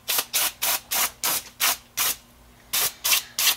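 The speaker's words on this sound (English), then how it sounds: "You really can spray this on all of it." Cleaner spray being pumped onto the rear brake assembly of a 1965 VW Bus in a series of short, even hissing bursts, about ten in a steady rhythm with one brief pause, close and loud with no talking.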